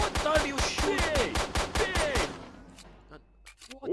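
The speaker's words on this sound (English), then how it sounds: "What are you shooting?" Rapid automatic gunfire from the video game S.T.A.L.K.E.R. rattles in a fast, even burst of about a dozen loud shots, then cuts off into quiet with a few faint clicks.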